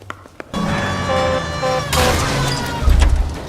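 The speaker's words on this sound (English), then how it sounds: "We have a siren." A police car siren in L.A. Noire starts suddenly after a short quiet moment, then wails loud and close with rising and falling tones over engine rumble.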